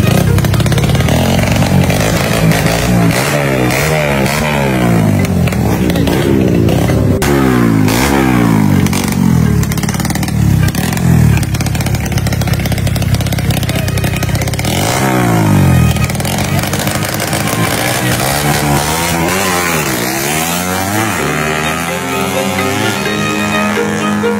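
Pit bike with a construction piston engine revving hard at a drag race, loud and close, its pitch repeatedly climbing and falling in buzzing, chainsaw-like sweeps, with voices faintly underneath.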